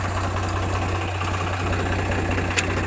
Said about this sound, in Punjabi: ਹਰੇਕ ਟਰੈਕਟਰ ਤੁਰਦਾ ਨਹੀਂ ਟਾਪ ਗੇਅਰ 'ਚ